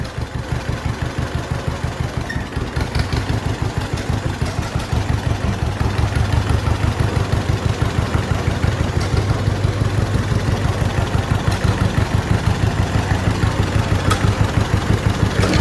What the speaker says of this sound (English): Give her just a little bit of throttle, and we'll back it on out.